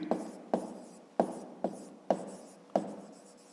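Pen or pencil writing a fifth-grade math answer on paper, six short scratchy strokes in a steady rhythm, close and fairly quiet with no talking.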